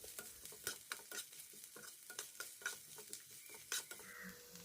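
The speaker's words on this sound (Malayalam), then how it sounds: "എന്നിട്ട് പച്ചമുളകും നമുക്ക് ഇതിൻ്റെ ഒപ്പം തന്നെ കുറച്ചൊന്ന് വഴറ്റിയെടുക്കണം കേട്ടോ." Onion and green chilli are sautéed in a pan for a Kerala-style prawn roast, a spoon stirring with quick repeated scrapes and taps over a quiet sizzle, close but soft.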